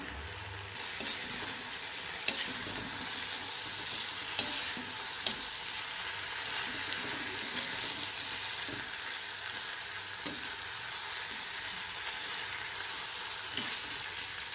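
Tapioca sautéing in masala in a pan, a continuous dense hiss of frying with occasional faint stirring taps, steady throughout.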